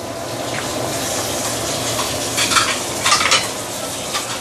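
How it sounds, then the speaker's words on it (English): Pomfret fish simmering in a spicy tamarind broth over medium-low heat, a steady close bubbling and faint sizzle with a few brief clinks and stirring scrapes near the end. "Let it simmer for approximately 10 minutes."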